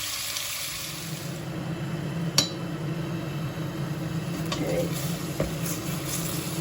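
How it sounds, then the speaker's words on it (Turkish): Chunks of meat cooking in butter in a pan for Turkish forest kebab are stirred with a steady low sizzle, broken by a few faint utensil clicks, close and quiet. "karıştırıyorum."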